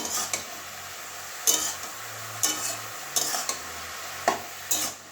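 Turmeric being stirred into a bottle gourd curry in a pan, with a spoon scraping and clinking against the metal in several distinct strokes over a soft, steady sizzle, close up and with no voices.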